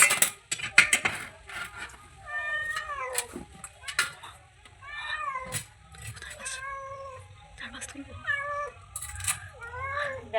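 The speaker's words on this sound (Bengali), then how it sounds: "বিড়ালটা এসছে।" A cat meows and wails repeatedly in a home kitchen where small hilsa and kachki fish are being prepared, its rising and falling cries coming at irregular intervals amid faint clinks of dishes and occasional talk.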